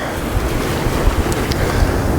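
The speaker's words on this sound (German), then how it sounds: "es ist Wahnsinn, was das für Wellen sind" Rough, continuous wash of Red Sea surf and wind at a jetty in El Quseir, Egypt, with low rumbling surges, steady and fairly loud, no voices.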